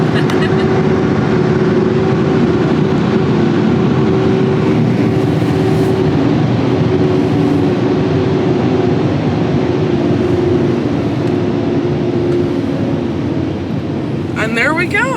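Machinery of an automatic car wash tunnel at Rocket Express Car Wash in South Jordan, Utah, a loud continuous rumble and whoosh of spraying and brushes surrounding the car, with people talking over it throughout.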